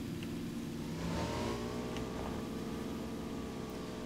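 Players' cars drive off in PUBG, their engines revving up with rising harmonic tones over a constant mid-range rumble, steady and fairly close throughout.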